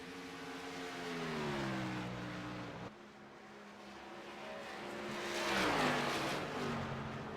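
Stock car racing game engines from the iCAR Cup Series at Atlanta, a steady engine drone with rising and falling pitch as cars move through the pack and pass by, loud and continuous with no talk over it.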